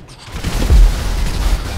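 A loud, deep video game grenade launcher explosion booms and rumbles, peaking briefly and then rolling on with heavy low-frequency crackle.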